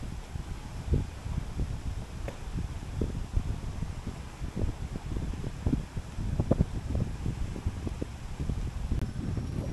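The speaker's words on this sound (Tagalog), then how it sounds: "Pasensya na sa sounds ng hangin kasi sobrang lakas." Strong wind at Bulabog Beach, Boracay, Philippines, roars and buffets the microphone throughout, with gusty rumbling bursts and no speech.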